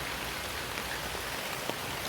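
Steady rain falls outdoors in Kerala, a dense, even hiss of drops on surfaces that runs close and unbroken for the whole short stretch, with no voices.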